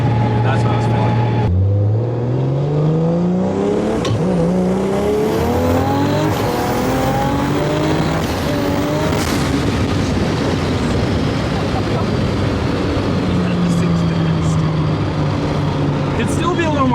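A Mazda RX-7 FD pulls hard through the gears, its engine note climbing steeply, dropping at each shift, then rising again in a loud, continuous run with people talking over it.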